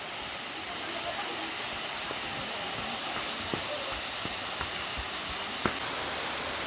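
Waterfall at San Mateo Falls in Butuan City, a steady broadband rush of falling water that holds evenly throughout, with a few faint clicks and a light voice nearby.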